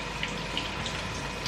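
Canned lentils being rinsed under running tap water: a continuous, even rush of water hitting the strainer and sink, close and fairly loud, with no voices.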